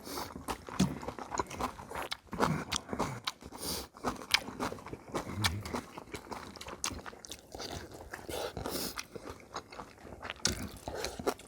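Pan-fried dumplings (gunmandu) are chewed up close with loud, continuous crunching and wet mastication, dense irregular bites throughout with no talking.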